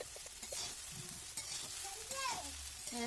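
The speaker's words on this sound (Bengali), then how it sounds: "এটা ভালো করে একটু ভেজে নিতে হবে যতটা সুন্দর করে এটা ভাজবে খেতে ততটা ভালো লাগবে" Chicken pasta with sauce frying and being stirred in a pan, a steady close sizzle with scraping stir strokes, faint tonal sounds drifting over it.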